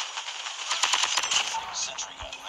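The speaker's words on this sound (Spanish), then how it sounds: "Y nos están disparando." Rapid automatic gunfire from the mobile shooter game Call of Duty Mobile, a steady run of close, loud bursts across the clip with faint voice-like sound mixed in.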